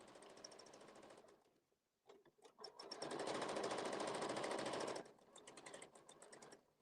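A sewing machine stitches fabric in quick bursts, with a short run followed by a longer, steady rapid stitching of about two seconds, then lighter intermittent stitching, close and fairly quiet.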